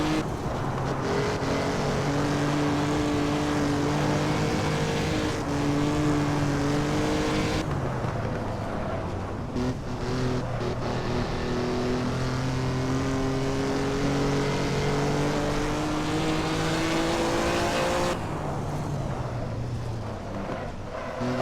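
A 1950s Formula One race car engine in Assetto Corsa drones steadily at the Dutch Grand Prix, its pitch climbing through each gear and dropping at upshifts, loud and continuous from the cockpit with no voices.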